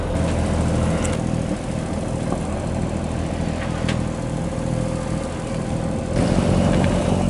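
Steady drone of a sailboat's auxiliary motor running at night in dead calm against a current in the Gulf of Tehuantepec, continuous and fairly loud with no talk.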